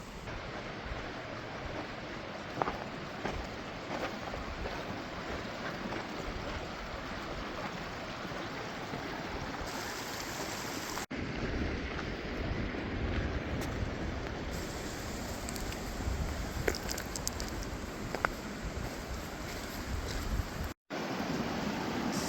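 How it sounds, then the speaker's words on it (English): Hermit Creek in the Grand Canyon runs as a steady, close, broadband rush of flowing water, with wind buffeting the microphone and a few brief clicks and dropouts. "We're still coming up Hermit's Creek."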